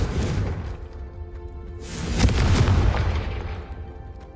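A Confringo blasting spell explodes in a video game: a deep rumbling boom swells, then bursts into a second louder blast with a whooshing roar that slowly fades, close and alone.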